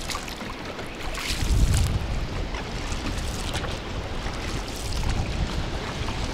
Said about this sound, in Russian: Ветер, конечно, мощнейший.